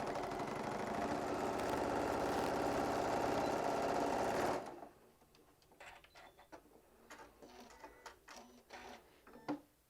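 A sewing machine stitches a quarter-inch seam through two fabric pieces placed right sides together, running loud and steady for about four seconds before stopping, followed by quiet handling clicks.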